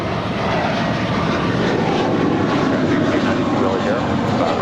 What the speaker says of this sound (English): That is American Airlines 238 departing to JFK. It's an A321.